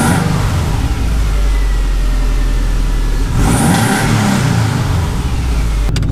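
A Subaru engine, naturally aspirated and being turbocharged, with upgraded fuel injectors, idles with a loud steady rumble, then is revved up sharply midway before settling back, heard close.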